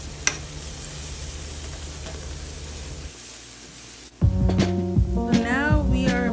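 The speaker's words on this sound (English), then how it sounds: "So I'm adding some minced garlic. And then I'm just going to stir that around." Minced garlic dropped into a hot pan for seafood rice and stirred around, a soft hiss at first that jumps into a louder, busier sizzle with scraping clatter partway through.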